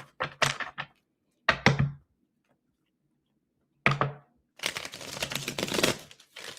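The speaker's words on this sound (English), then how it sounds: "I got to shuffle slow so they don't stick." Several short bursts of tarot cards being shuffled slowly, riffled in quick clusters with pauses between, close up, ending in a longer continuous shuffle.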